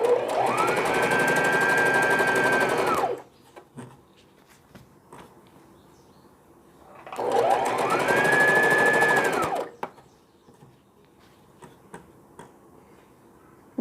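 A sewing machine stitches the piping casing for elastic on a simple baby frock, running in two steady bursts of about three seconds each with quiet handling and small clicks in between.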